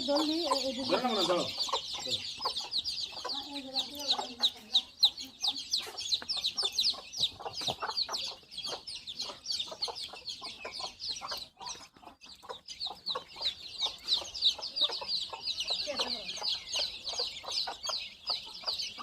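A hen clucks low and repeatedly while a dense chorus of high, rapid chick peeps fills the background throughout, fairly close.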